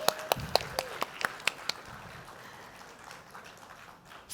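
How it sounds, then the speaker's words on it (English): A conference audience at a community event claps in a short burst of sharp, scattered hand claps that quickly thin out and fade into quiet room tone. "Let's give ourselves a big round of applause."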